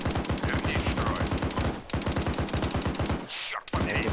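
Rapid automatic gunfire in the video game ARMA 3 rattles out in close, loud bursts, briefly broken by short pauses and a whooshing sound.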